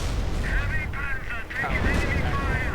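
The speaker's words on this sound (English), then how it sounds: "More artillery towards here." Artillery fire in a World War II strategy game, dense rumbling booms held under a constant battle din, with someone talking over it.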